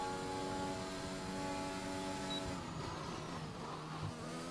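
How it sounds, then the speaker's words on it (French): Engine of a McLaren race car in a racing video game, a steady droning whine with harmonic tones that fades as the car passes by, loud and with no talk over it. "La McLaren laisse passer en ce moment"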